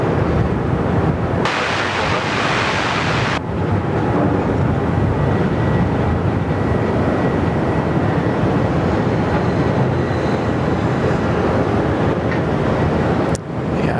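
A Cathay Pacific Boeing 747 takes off from runway 34 Left at Sydney Airport, a loud continuous broadband jet roar with wind buffeting, filling the whole stretch without a break.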